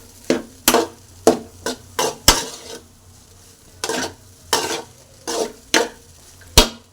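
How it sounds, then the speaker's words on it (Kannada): Egg rice is mixed in a pan: a spoon or spatula knocks and scrapes against the metal about a dozen times in an uneven rhythm over faint sizzling, close and distinct, with no voices. "ನೋಡಿ ಹೇಗಿದೆ ಎಗ್ ರೈಸ್ ಕಲಿಸ್ತಾ ಇದ್ದೀನಿ ಫುಲ್ಲು."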